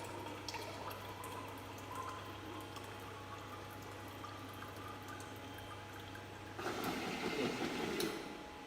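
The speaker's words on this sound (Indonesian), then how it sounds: "Kemudian keran akan turun memposisikan level dan air akan diisi ke dalam gelas" An automatic water dispenser on a multifunction folding table runs with a low steady hum, then water pours from its lowered tap into a glass in a faint, continuous splashing stream toward the end.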